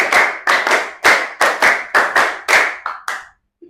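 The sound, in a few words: loud rhythmic hand clapping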